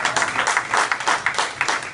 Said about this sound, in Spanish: Dale un aplauso a su gloria.